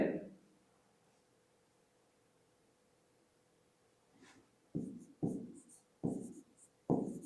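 Marker or chalk strokes on a board during a physics lesson, a faint tap at the start, then four sharp scratchy writing strokes in quick succession after a quiet pause, close and clear.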